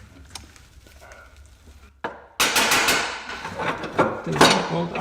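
A bolt being worked out of the front subframe of a Jaguar S-Type during restoration: quiet metallic ticks first, then a sharp clank and a run of loud, rattling metal knocks and scrapes close by.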